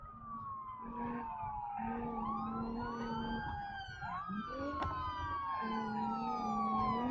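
A police car siren from the BeamNG.Drive driving game wails loud and close, its rising and falling sweeps overlapping almost continuously over a low engine drone, with no talk.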